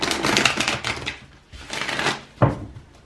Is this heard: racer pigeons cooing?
no